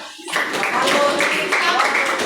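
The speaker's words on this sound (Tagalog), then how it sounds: "Palakpakan siya." Classmates clap for a student in a Filipino class, a burst of moderate group clapping that starts suddenly and holds steady for a couple of seconds, with a teacher's voice speaking over it.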